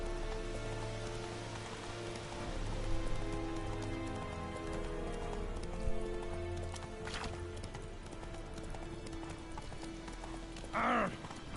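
Hooves of a horse ridden in The Witcher 3 video game thud in a steady clip-clop close by, over rain and ambient game music, with a brief horse whinny near the end.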